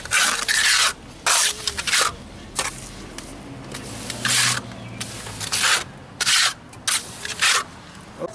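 Mortar is plastered onto stone masonry steps, giving repeated close scraping and rubbing strokes of a trowel in irregular bursts, with quieter gaps between.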